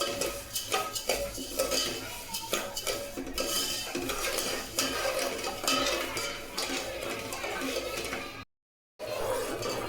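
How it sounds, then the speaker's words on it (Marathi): A spoon scrapes and stirs dissolving sugar syrup in a metal pan for besan laddoo. The clinking, scraping sound runs steadily and closely with no pause, cutting out briefly near the end. "जोपर्यंत साखर विरघळत नाही तोपर्यंत हलवत राहायचं, नाही तर साखर खाली चिकटली जाते"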